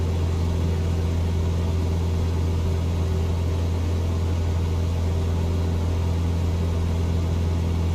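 Steady, loud drone of a Cessna 172 piston engine in flight, a constant low hum with strong tonal bands that holds evenly throughout with no voices.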